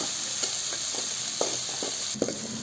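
Dried manathakkali vathal sautés in a pan, giving a steady soft sizzle broken by light scraping stir strokes at close range, with no one speaking.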